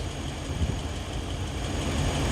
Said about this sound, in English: The compressor is still running, guys.